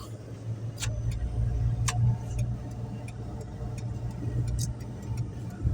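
A car on the road toward Bekal Fort in Kasaragod, Kerala, hums with a steady low engine and road drone from inside the cabin, overlaid with a few light ticking clicks.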